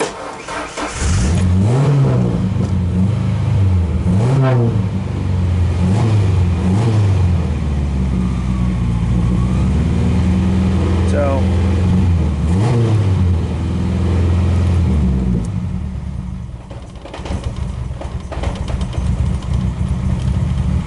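An old 1994 Ford Ranger engine runs close up on a cold start, surging through several rough revs before settling back into a low, uneven idle near the end.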